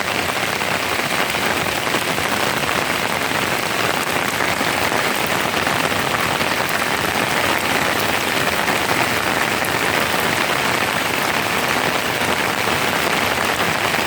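Steady rain pours down, a dense even hiss of drops hitting surfaces that stays loud and unchanging throughout, with no voices.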